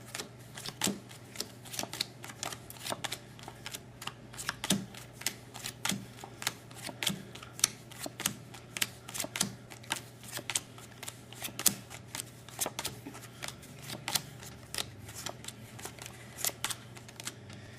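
Playing cards dealt one at a time into alternating piles during a card trick, a steady stream of crisp, close snaps and flicks repeating roughly every half second, alone without talk.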